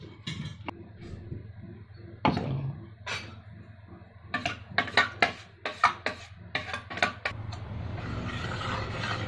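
Filtrate being poured into a pressure cooker in a home kitchen while making carrot soup, with a series of close metallic clanks and taps of pots and utensils, scattered and irregular, louder toward the middle.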